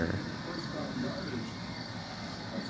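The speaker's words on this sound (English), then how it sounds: "you can still hear the cicadas August 17th" Cicadas drone on an August evening outdoors, a steady, even buzzing hiss with no clear pauses, moderately loud and continuous across the short stretch.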